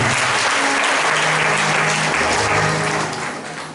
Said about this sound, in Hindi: अपने हाथों को दिखाओ और जोरदार ताली बजाओ यीशु मसीह के लिए